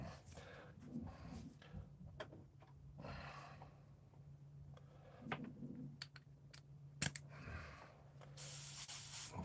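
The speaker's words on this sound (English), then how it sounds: "Let me spray another round of gold." A spray can lays down another coat of gold paint in short hissing bursts with pauses between them, mixed with light handling noises, moderately close.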